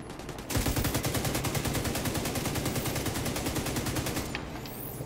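Sustained automatic gunfire from an enemy in The Division 2's Warlords of New York, a rapid, steady stream of loud shots lasting several seconds after a brief lull, then cutting off abruptly.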